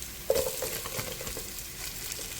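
Onion being added to green chilies frying in oil for chicken biryani, with a brief clatter and then a low steady sizzle with faint stirring scrapes, close by and fairly quiet.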